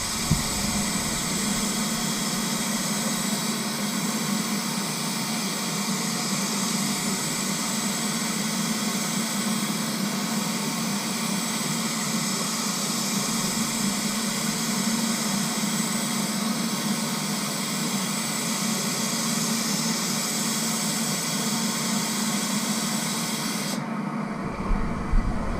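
Paint spray gun laying a coat on a Mazda in Machine Gray, a loud, steady close-up hiss of air and atomized paint running almost unbroken, cutting off briefly near the end.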